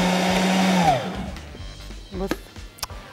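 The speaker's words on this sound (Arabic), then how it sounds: "انا بجيب ايه بقى؟ الخلاط." An electric kitchen blender, in use while making qatayef pancake batter at home, whirs steadily at close range for about a second, then winds down and stops, followed by a few clatters and brief voices.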